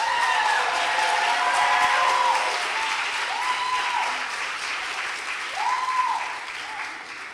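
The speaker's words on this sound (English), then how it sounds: "Let's give my colleagues a round of applause" Audience clapping in a hall at an event honoring student activism, a steady wash of applause sustained for several seconds, with faint voices and a few whoops rising briefly over it.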